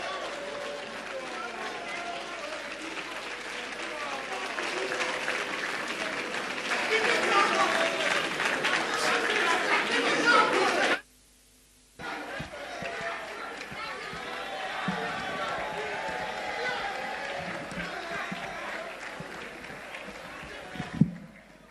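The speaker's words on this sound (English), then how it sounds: "let's give the man another big round of applause" An outdoor crowd applauds and cheers at the close of a political speech in Ghana, a dense sustained roar that cuts out briefly and then resumes with clapping and a voice over it.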